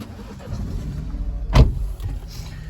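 A BMW 118i M Sport 1.5-litre fires up with keyless start, a short, loud starter burst that catches into a low, steady idle heard from inside the cabin.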